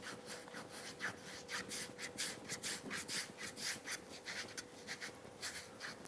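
A rasp files across fingernails in steady back-and-forth strokes, a bright scratchy rubbing that repeats in quick rhythmic bursts, close and moderately quiet with no talk.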